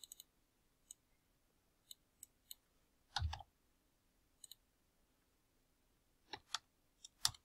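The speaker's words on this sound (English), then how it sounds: "click the left mouse button on this plus icon" Sharp left mouse button clicks on a computer, sounding singly and in quick pairs at irregular gaps, close and quiet against near silence.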